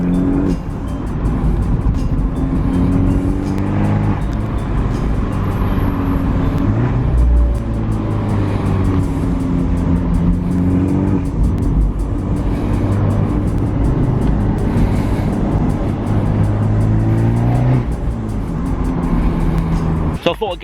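A 1.4-litre turbocharged car engine drones steadily from inside the cabin, its pitch rising and falling with gear changes, while a person talks over it.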